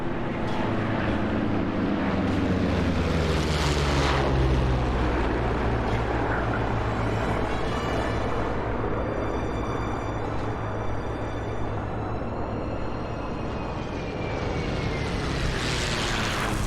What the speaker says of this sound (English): the P-40 and P-47 now in formation, performing a low pass